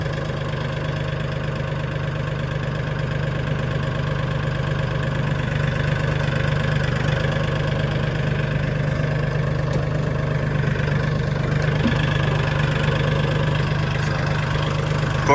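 A Mahindra 1635 tractor engine runs steadily in low gear with a shuttle shift transmission and nothing on the rear, giving a loud, continuous diesel drone with a rhythmic knock, close by and without talk.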